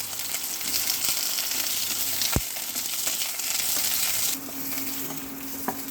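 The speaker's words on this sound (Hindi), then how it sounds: "पहले मैं आलू के कलिया को तल दूँ।" Potato pieces fry in a spoonful of oil in a pan on a stove, a steady close sizzle with a few light clinks and stirring scrapes, no voices.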